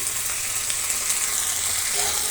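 Tomatoes sizzle in hot oil for dosa chutney, a steady, close, even frying hiss that holds without pause and has no voices over it.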